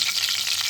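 Mustard and cumin seeds crackle and sizzle in hot oil, a dense, steady hiss of frying that fills the whole short moment without any talking.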